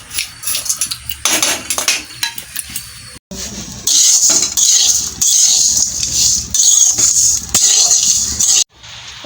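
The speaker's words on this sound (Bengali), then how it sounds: "ভাজবো এখন, সুন্দর করে ভালো করে ভেজে নিতে হবে।" Homemade cerelac mixture dry-roasting in a hot kadai, with a metal spoon scraping and clinking against the pan in repeated strokes, loud and close, with brief pauses between bursts.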